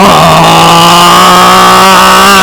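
Someone mimics a high, whining electric truck motor with their mouth, a loud continuous buzzing hum that holds steady throughout.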